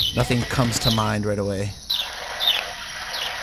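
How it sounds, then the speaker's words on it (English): Many birds chirping and calling over a teammate's game mic in an online shooter, a busy layer of tweets under someone talking throughout. "Sounds like he's in like a bird zoo area."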